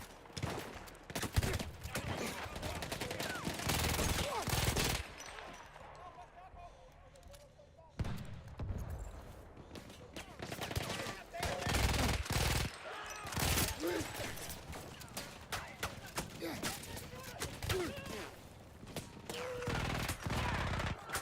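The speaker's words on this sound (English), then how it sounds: "I really wonder how accurate this machine gun even is." Fast-firing machine gun in the video game Battlefield 1, rapid rattling bursts of loud shots, repeated in long strings with short gaps, amid other battle noise.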